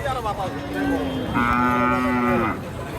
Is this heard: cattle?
yes